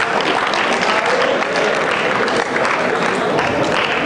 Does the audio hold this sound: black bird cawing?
no